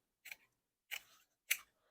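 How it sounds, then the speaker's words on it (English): Scissors snip material while a bee wreath is made on a bicycle wheel frame: three crisp, separate cuts spaced roughly evenly, close and quiet against near silence. "I'm just going to cut it."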